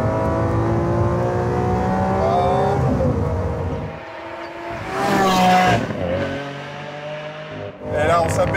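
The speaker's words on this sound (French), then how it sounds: "C'est Lamborghini avec un V12 atmosphérique." A Lamborghini Aventador S with a naturally aspirated V12 revs hard, its engine note rising through several pulls and gear changes, with brief pauses and a final burst, close and loud.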